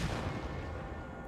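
A field cannon fires in a strategy game, a single heavy boom with a dense low rumble that rolls off over about a second, fairly loud and alone.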